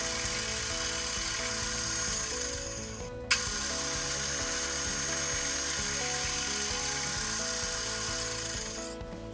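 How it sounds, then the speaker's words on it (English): A power drill boring a pilot hole in an aluminum bicycle frame fixture gives a continuous high whine, with a sharp break about a third of the way through before the whirring resumes steadily until the end. "a pilot hole is drilled, followed by a hole for a 1/4 inch bolt"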